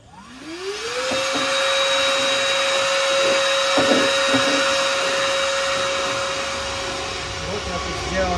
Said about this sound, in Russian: Большой пылесосик. Сейчас мы вот им все и заберем.